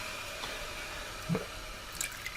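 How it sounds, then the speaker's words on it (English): Water flows and drips into the handwash basin on top of a toilet tank, a soft steady trickle with a few distinct drops. "Right now the water's just freely flowing"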